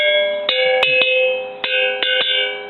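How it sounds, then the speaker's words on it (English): A bell rings repeatedly during an online meeting, with sharp metallic strikes at an uneven rhythm, each leaving a bright ringing tone that hangs between hits, loud and with no talk over it. "since the bell is ringing"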